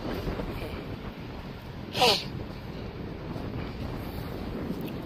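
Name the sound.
strong wind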